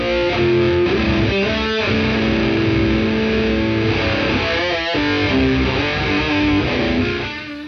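Electric guitar playing a song through a 1987 Boss MZ-2 Digital Metalizer distortion pedal, with thick, saturated sustained chords and notes ringing continuously at a loud, close level.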